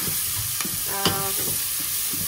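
Pork belly frying in a pan, a steady close sizzle broken by a few sharp pops and a short spatula scrape near the middle.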